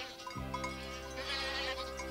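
A cartoon goat bleats in a long, wavering call that rises abruptly and holds steady with strong harmonics, loud and close, with no talk over it.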